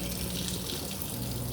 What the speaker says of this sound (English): Putting water in my pot.